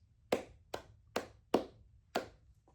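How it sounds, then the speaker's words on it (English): Five distinct hand claps, evenly spaced about half a second apart, close and fairly quiet against a low background hum, given as a movie rating. "That's right, 5 claps out of 5."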